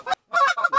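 Geese honk loudly and close during a goose hunt, a quick burst of several overlapping calls broken by a short silent gap.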